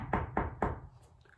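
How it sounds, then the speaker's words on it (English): Three firm knocks on a front door, evenly spaced and fairly close, each a short hollow thud that quickly dies away into quiet. "Then they drove home and knocked on the front door."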